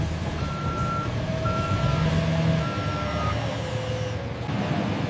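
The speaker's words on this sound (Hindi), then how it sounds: "ऑर्डर मिलने पर फोर्कलिफ्ट इन्हें ट्रकों तक पहुंचाती है।" A forklift at a sugar factory sounds repeated electronic reversing beeps while moving loads to waiting trucks, a steady pulsing tone over a constant rumble of vehicle engines nearby.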